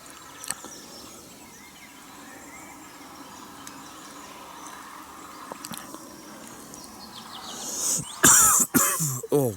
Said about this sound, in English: I'm coughing because I just swallowed a fly.